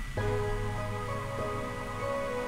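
Soul sample pitched down seven semitones, playing as a dense, sustained, wavy musical loop with steady low bass and smeared harmonics, loud and continuous with no voices.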